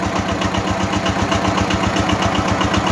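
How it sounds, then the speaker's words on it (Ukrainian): Homemade generator built from an old electric motor, on its second day of testing, running with a loud, steady mechanical hum and a rapid regular pulsing rhythm, close by with no speech. "І от на сьогодні другий день випробовування нашого саморобного генератора."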